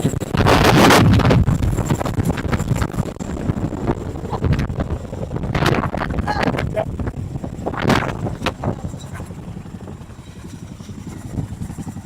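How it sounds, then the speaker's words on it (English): A helicopter landing nearby kicks up heavy rotor wind, with sustained roaring wind buffeting the microphone throughout and a few louder gusts, while a voice talks over it. "It's going to be coming in right over here, right to my left shoulder. It is super loud. The wind is kicking back up."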